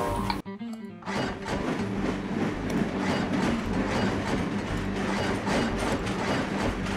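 Train running on tracks in the Train Crisis video game: a steady, loud rumbling clatter that holds for most of the clip after a sharp dip near the start, with no talk over it.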